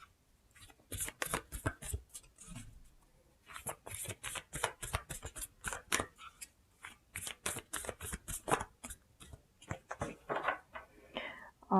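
Oracle cards are shuffled by hand in rapid bursts of flicking, riffling snaps with short pauses between them, close and crisp, with soft whispery sounds in between.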